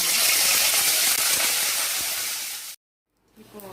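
Mustard seeds and curry leaves sizzle loudly in hot oil, a dense steady hiss that cuts off abruptly, followed by near silence and then faint quieter frying.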